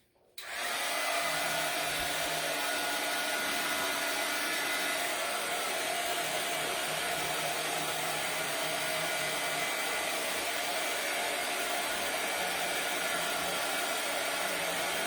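A hair dryer blows steadily to dry moss-colored paint on a craft sign, switching on abruptly and then holding a loud, even whirring rush for the whole stretch, with no talking.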